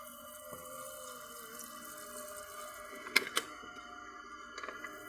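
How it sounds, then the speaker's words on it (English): Water trickling steadily from a plastic water bottle poked with holes at the top, sprinkling a home garden early in the morning, soft and close with a couple of small clinks partway through. "So I poked holes at the top of this water bottle."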